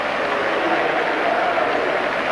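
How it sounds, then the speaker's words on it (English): Steady crowd applause rolls around Highbury at a Liverpool-Arsenal League Cup third round replay in 1988, a broad continuous wash of clapping from a big football crowd with no pauses. "Applause all around the ground though"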